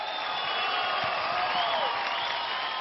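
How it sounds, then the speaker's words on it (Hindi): A studio audience cheers and applauds for contestants on a show finale, a loud, continuous wash of clapping and whoops with no pause. "प्लीज आइए, जोरदार तालियां इनके लिए"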